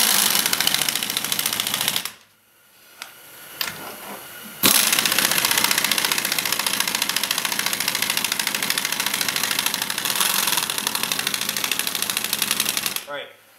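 Impact wrench fitted with an 80 ft-lb torque stick runs tightening rear wheel lug nuts on a Hyundai Sonata in a garage, loud and continuous apart from a brief pause, with a sharp restart and a steady rattling hammer.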